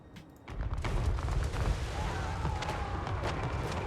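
Mortar and artillery fire booms and rumbles through a Total Warhammer 3 battle, dense overlapping low thuds and blasts rolling continuously at fairly loud level after a quieter start.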